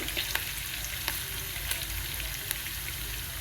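Tempering for mango pulihora sizzles steadily in hot oil, a continuous crackling fry with small pops scattered throughout.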